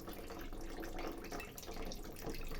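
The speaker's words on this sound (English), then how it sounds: "So now I'm just going to run cold water until it cools down completely." Cold water runs steadily from a kitchen tap over a hot cooking pot, giving a close, continuous splashing rush with no talking.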